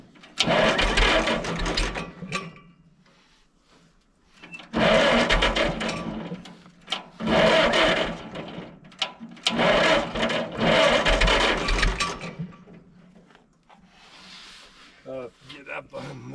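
Super W6TA diesel tractor engine just after a cold start, loud chugging bursts that rise and fall in several surges with quieter gaps, people talking in between.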